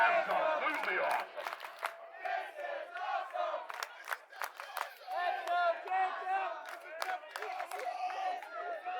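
A crowd at a car meet cheers and shouts loudly, excited voices overlapping in a continuous roar with whoops and yells rising and falling, nearby.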